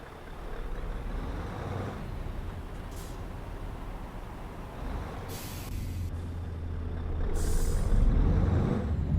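A heavy truck engine drones steadily while pulling a container trailer in Euro Truck Simulator 2, with brief hissing air bursts partway through and the engine rumble swelling toward the end; no voices.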